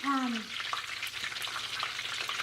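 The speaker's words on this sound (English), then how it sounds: "After we smash these, we're going to put them back in the fryer and then let them cook again" Smashed green plantains for tostones sizzle in hot oil in a fryer, a busy, crackling fry close up with a few light stirring clicks and pops.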